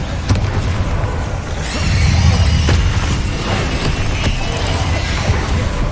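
The Bombarda explosion spell in Hogwarts Legacy erupts as a loud, rumbling blast that swells and holds, layered with clattering debris and mechanical rattles over a constant game soundscape.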